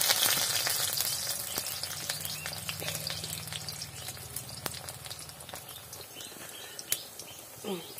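Bitter gourd leaves coated in rice flour batter fry in hot oil in a village kitchen, giving a continuous crackling sizzle with scattered pops that eases slightly over time, birds chirping faintly in the background.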